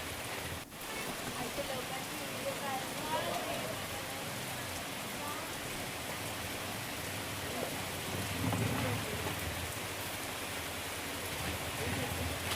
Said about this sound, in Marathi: उल्हासनगरमध्ये जोरदार पाऊस झाला।